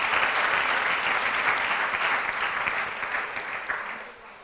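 Sustained audience applause at a church program, a dense wash of many hands clapping that holds steady and then tapers slightly toward the end.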